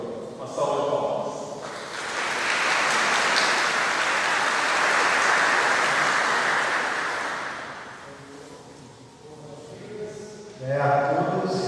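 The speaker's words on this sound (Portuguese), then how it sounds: "Uma salva de palmas" An audience at a spring concert of organ and violin applauds a friar, the clapping swelling into a broad, sustained wash before fading, with a voice speaking briefly before and after.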